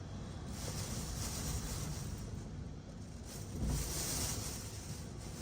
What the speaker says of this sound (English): There's some really strong gusts, and then it calms down, and it goes back to like this.